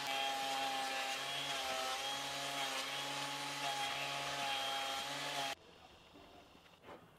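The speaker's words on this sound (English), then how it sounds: "I gave them a few passes on the thickness planer to refresh the faces." Pieces of reclaimed wood from an old bed feed through a thickness planer, a loud steady motor whine with cutting roar lasting about five seconds, then dropping abruptly to quiet workshop sounds.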